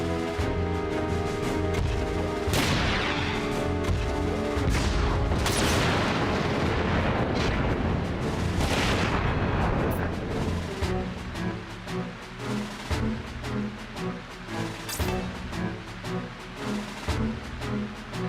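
A grenade explodes in the mecha strategy game Front Mission 4, a dense rumbling burst of blasts and booms filling the opening seconds before fading into rhythmic game music.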